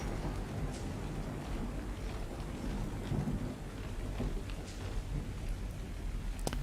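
Thunderstorm in the survival game Ark Survival Evolved on the Ragnarok map, with steady heavy rain hissing throughout and low rolling thunder rumbling underneath, a continuous loud wash of weather with no talking.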